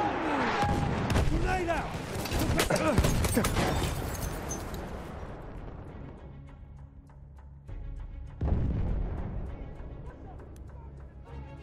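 Artillery shells and explosions in the Battlefield 1 game, on the St. Quentin Scar map in Rush mode: rumbling booms and sharp blasts, heaviest at the start and fading into a low distant rumble, with a shouted voice over them.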